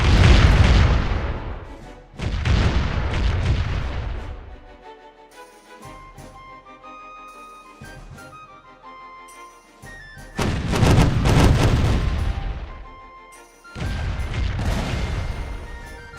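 Cannon broadside from a ship's right side in the pirate game Caribbean Legend: heavy booming volleys in bursts, a sustained rumble, then a quieter tonal lull before two more loud barrages.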